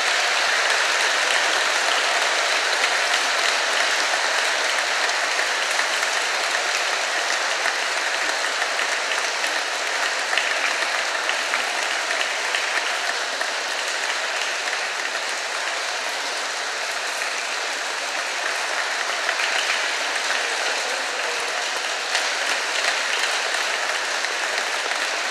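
A church congregation in Iași cathedral applauds steadily during Sunday Mass, producing a dense, unbroken wash of clapping that holds at a constant loudness for the whole stretch with no talking.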